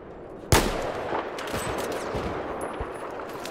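A single loud gunshot cracks out in Battlefield 4 on the Zavod 311 map, followed by a steady wash of distant battlefield noise and scattered fainter shots.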